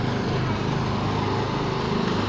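Small gasoline engines of Disneyland Autopia ride cars, a constant buzzing drone heard from directly beneath the track, loud and steady throughout with no talking.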